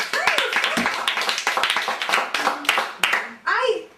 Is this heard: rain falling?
no